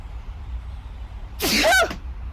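A single loud human sneeze, close and abrupt, bursts out of a quiet background with low room hum.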